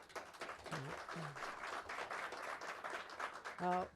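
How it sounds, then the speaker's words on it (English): Applause from a crowd at a New York City announcement by the governor fills the clip as a steady patter, with brief voices cutting through now and then. "Let's give them a round of applause."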